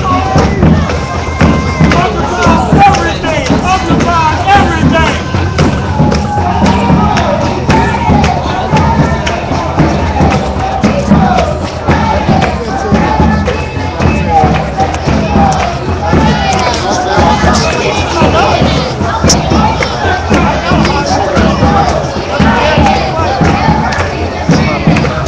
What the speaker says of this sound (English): And the rest of the crowd showing up here.